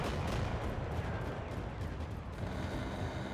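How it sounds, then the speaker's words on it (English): Bombs and explosions rumble through the Mecha Knights Nightmare video game during air support, a dense continuous roar of blasts and gunfire-like crackle, fairly quiet and unbroken throughout. "I think I may have just dropped a bomb like nowhere near me there"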